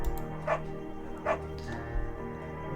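A beagle barking in Firewatch, three sharp yips spaced evenly apart, fairly close and clear over a soft background.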